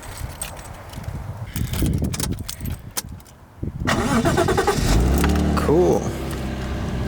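A car engine cranks and catches after the starter motor has been tapped a few times, settling into a steady, loud idle following several seconds of clatter and knocking.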